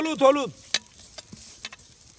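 Chili is stirred in a sizzling pan while an evening meal is cooked in the hills. A brief voice comes first, then soft scraping stirs and light sizzling at moderate volume.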